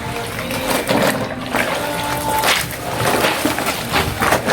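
Clothes are washed by hand in water, with repeated sloshing, splashing and wet rubbing in an uneven rhythm, close and fairly loud throughout.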